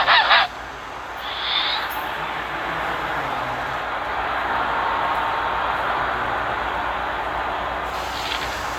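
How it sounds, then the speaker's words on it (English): A Canada goose gives a couple of brief honks near the start, then a steady broad outdoor wash carries on for several seconds without further calls. "There's a reason he's called a Canada Goose."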